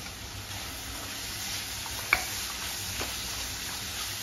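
Onion sautés in a pan with turmeric and salt, a continuous even sizzle close by, with a single sharp click and one fainter tap from a utensil partway through; nobody speaks.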